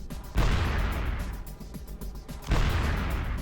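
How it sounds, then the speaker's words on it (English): A stun grenade bursts near a tank in Metal Gear Solid: The Twin Snakes, two loud low booming blasts about two seconds apart over a continuous rumbling background. "giving you a chance to toss a stun grenade in there"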